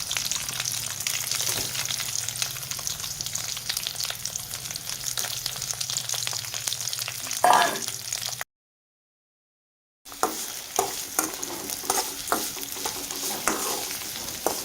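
Oil sizzles and crackles steadily as onions fry in a pan, with occasional stirring scrapes; a brief silent gap interrupts, then the frying continues.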